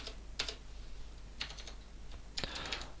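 Computer keyboard typing while writing HTML style code: three short bursts of keystrokes, near and fairly quiet, with faint room noise between them and no talk.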